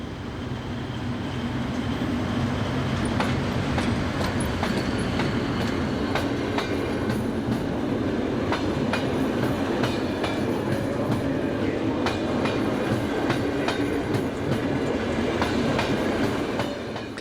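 Belgian Class AM80 brake unit electric train on a stopping service near Bruxelles, running steadily with a constant close rumble, repeated wheel clicks over rail joints and a faint squeal, no voices.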